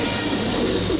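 Teddy pigeons, a breeding pair of male and female, cooing close by in a steady low murmur that runs through the whole short moment, with no talk over it.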